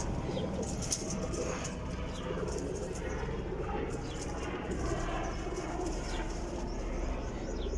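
Domestic Teddy pigeons cooing at a pigeon seller's loft in Jhelum, a low steady murmur of coos under a constant noisy background with faint bird calls and occasional wing flaps.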